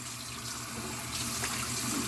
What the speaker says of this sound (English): Then I'm going to run me some warm water.